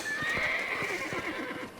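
In Red Dead Redemption, horses whinny in a long, distressed cry while hooves clop steadily underneath, a busy cluster of animal sounds at moderate distance.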